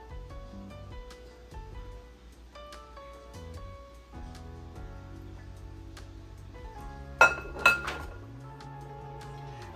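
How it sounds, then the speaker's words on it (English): Boiled eggs being cut up in a dish for tuna salad, heard as light repeated clinks of a utensil against the dish over a steady tonal background, with a brief louder clatter near the end. "Okay, we're getting these eggs cut up here."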